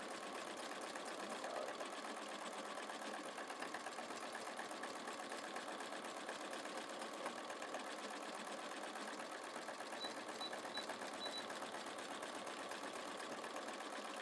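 A sewing machine runs steadily for a long stretch while stitching wing needle work, its even motor whir and rapid needle chatter holding at a constant moderate level with no voices.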